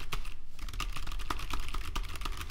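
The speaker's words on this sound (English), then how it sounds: "my text box is ready for me to type anything I want." A computer keyboard is typed on in quick, uneven bursts of close, crisp key clicks, with a short pause early on and then dense tapping that continues to the end, with no one speaking.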